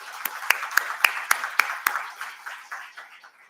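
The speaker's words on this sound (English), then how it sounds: "I would like to give a loud round of applause to Professor Shastri and his entire team" A few people in a tech summit hall clap for a professor and his team, sparse sharp claps at a steady rhythm for about two seconds, then a thinner patter fading out.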